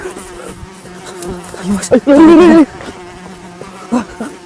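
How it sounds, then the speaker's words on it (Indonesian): A wasp buzzes inside a tent, a loud close whine swelling and wavering for about a second amid brief shorter buzzes, with people talking sporadically around it. "Apa ini? Tawon."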